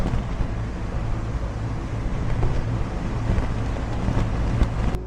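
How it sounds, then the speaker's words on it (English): Strong wind gusting across open high desert at Wupatki in Arizona, a steady, loud rushing roar buffeting close against the microphone, with no voices. "Look at how fast that wind is blowing."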